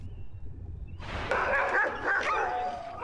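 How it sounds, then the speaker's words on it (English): Iditarod sled dogs at a kennel near Alyeska in Alaska break into loud, excited barking and yipping, several dogs close by, after a moment of near quiet. "we're gonna show you the actual dogs that have won the Iditarod here"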